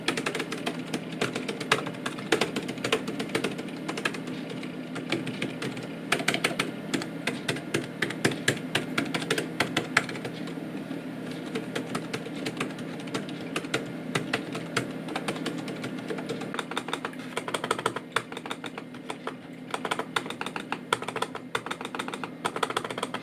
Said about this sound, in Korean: 키 타이핑하고 터치패드의 키 소리를 한번 들어보시겠습니다